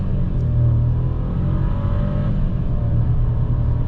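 A 2022 VW Taigo Style accelerates hard from a full stop, engine droning loud and steady from inside the cabin with a low, continuous rumble.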